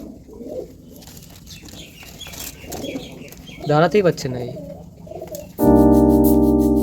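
Pet pigeons coo softly close by among other low bird sounds while a person talks, followed by a loud sustained musical tone at the end.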